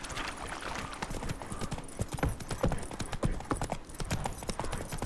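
Horse hooves clip-clopping in The Witcher 3, a quick steady trotting rhythm of sharp hoof strikes over a low ambient game background, with no talk.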